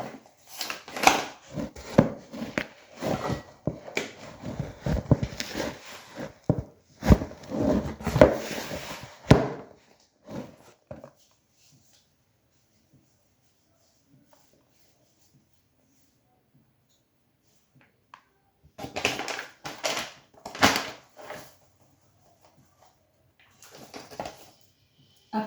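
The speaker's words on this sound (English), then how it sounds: "you want to knead your flour until it's as soft as possible" Maandazi dough, softened with milk and margarine, being kneaded and slapped by hand on a surface, giving bursts of close thumping and pressing that pause for about eight seconds before resuming.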